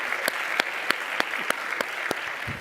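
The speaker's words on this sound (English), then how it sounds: "round of applause." Audience applause at a keynote speech during a Scrum Alliance global event, a soft, even bed of clapping crowd with a few sharp, regularly spaced single claps standing out near the microphone.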